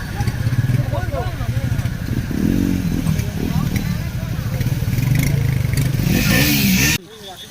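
Motorcycle engines idling and revving in a crowded, jammed parking area, rough low putters and brief throttle rises close by, mixed with people talking over the din, cutting off abruptly near the end.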